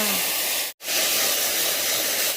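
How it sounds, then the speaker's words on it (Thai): Garlic and mushrooms stir-fry in a hot pan for a spaghetti dish, giving a loud, continuous sizzling hiss with one brief silent break; no voices. "กระเทียมเริ่มหอมเราก็ใส่เห็ดลงไปผัดจ้า"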